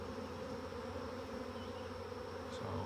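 Steady, close swarm of honey bees buzzing around an open hive during an apiary inspection, a dense continuous hum with no voices.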